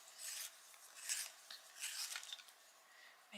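Prussian green colored pencil is sharpened with a soft, close, raspy grinding, in three or four short bursts of turning strokes, quiet and without talk.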